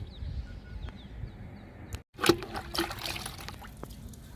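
Homemade liquid fertilizer trickles and pours from a container onto crossandra plants in a summer garden, a soft close dribble with a brief louder splash partway through, faint chicken or bird sounds in the background.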